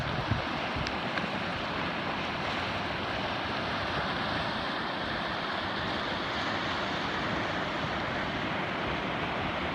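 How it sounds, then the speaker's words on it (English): Chama River in New Mexico flowing, a steady broadband rush of water, fairly faint and unbroken with no talk. "I think this is the Chama River."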